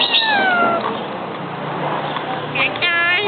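A myna bird imitates a cat's meow in clear, close calls, one drawn-out mew at the start and another near the end, with faint voices and household noise in between.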